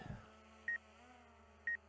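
A drone gives two short, high electronic beeps about a second apart, thin and evenly spaced over a quiet hum.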